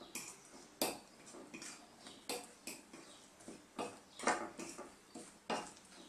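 A utensil stirs beaten eggs into a mung bean mixture with garlic, salt and black pepper in a bowl, giving a run of light, irregular clinks and scrapes, close and fairly quiet.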